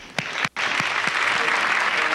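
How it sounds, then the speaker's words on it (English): A theatre audience at the Apollo Theater applauds Stevie Wonder with dense, steady clapping, a few sharp claps standing out at first and a brief break near the start before the crowd noise continues. "Those are some firm claps."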